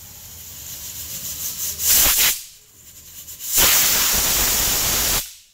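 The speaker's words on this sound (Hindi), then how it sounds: "एबे मु प्रेशर कुकरटा को बसई देची आको एबे आमे गोटे किंबा 2टा विसिल मारिबा पर्यंत छाड़दबा" A pressure cooker on the stove cooking tamarind seeds lets out two loud bursts of hissing steam, each a few seconds long, with a short quieter gap between them and an abrupt cutoff at the end.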